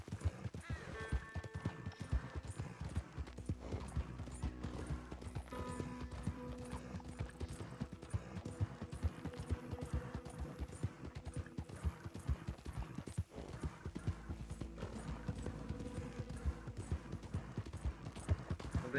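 Horse hooves clip-clop steadily in Red Dead Redemption 2, with occasional neighs and whinnies, fairly faint under a continuous game soundscape.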